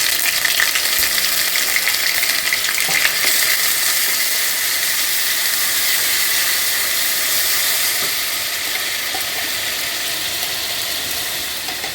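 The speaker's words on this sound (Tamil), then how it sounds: "இப்போ இஞ்சி பூண்டு பேஸ்ட்டு சேர்த்துக்கலாம்." Ginger garlic paste frying in hot oil, a loud, steady broadband sizzle and hiss that runs the whole time, easing slightly toward the end, with no voices.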